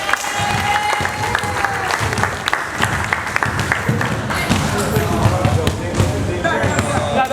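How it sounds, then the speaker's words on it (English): Crowd applause at a youth 12U basketball championship awards moment, a steady dense spatter of clapping with some cheering over a loud echoing gym, with ball bounces and voices mixed in throughout. "Give him a round of applause."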